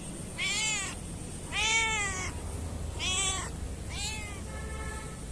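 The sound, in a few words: cat meowing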